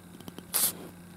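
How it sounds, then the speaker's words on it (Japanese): Cap twisted off a bottle of Sado unpasteurized, extra-dry junmai genshu sake, releasing one short, faint hiss of gas after a few soft taps, heard close up in a quiet room. "開けると今プシュッとかすかに音がしたかと思うんですが"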